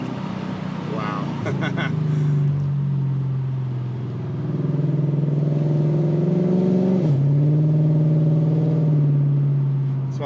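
An Infiniti Q45 fitted with a 3.692 rear end pulls hard in second gear, its engine note rising steadily and loud inside the cabin, dipping briefly at a shift before climbing again; a voice exclaims briefly over it.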